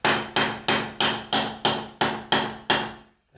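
A hammer taps a chisel to pry tiles off a wall: nine sharp, evenly spaced metallic strikes, close and loud, each ringing briefly before the next, then a short pause.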